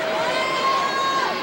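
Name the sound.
basketball crowd reacting at free throws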